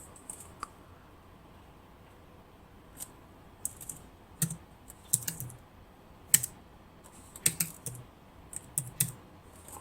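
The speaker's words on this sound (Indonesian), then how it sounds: "kita masukkan nanti nama usernya admin, kemudian passwordnya tadi yang 6 digit ya" Keys on a computer keyboard are tapped out in short irregular bursts while a password is entered, crisp close clicks separated by brief pauses, with no voices present.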